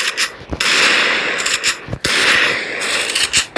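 Gunfire from a first-person shooter game, with several sharp cracks and bursts spread across a few seconds, some followed by loud broadband blasts that ring out briefly before the next shots.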